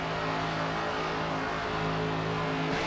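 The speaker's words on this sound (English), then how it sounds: "Oh, listen to that engine roar, baby." A NASCAR 25 video game race car engine on PS5 drones at high revs with steady tonal hum, broadband and continuous, moderately loud with no voices.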